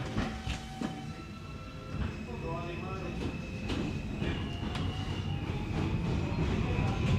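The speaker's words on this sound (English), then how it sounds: "Liz, I do love the sound of the train." New York City subway J train riding through Brooklyn, a continuous rumbling roar of wheels on track with rhythmic clacks, metallic squeals and a steady motor whine, heard from inside the car.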